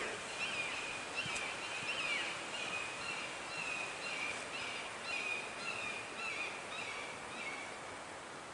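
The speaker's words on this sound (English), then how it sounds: "Now we got more hawks calling over here and over here. So we got 2 hawks and at least 3 crows." Hawks and crows calling outdoors near an old road in California, repeated thin high cries scattered through steady background noise, moderately distant, with no talking.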